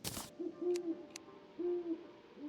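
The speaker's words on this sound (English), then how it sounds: "There's an owl on top of the house." Owl hooting in the Terraria Calamity Mod game, a series of soft, low, drawn-out hoots repeating at an even pace, clear and alone after a short burst of noise at the start.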